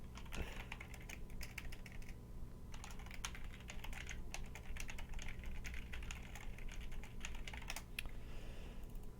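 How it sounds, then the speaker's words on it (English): Rapid typing on a computer keyboard carries on steadily throughout, fairly faint clicks over a constant low hum, with no voices. "My keyboard is crazy."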